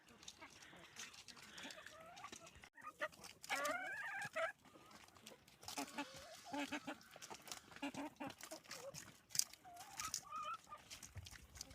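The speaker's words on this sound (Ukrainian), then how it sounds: "Виїдають індики з курами" Turkeys and chickens cluck and chatter nearby while people talk over the birds.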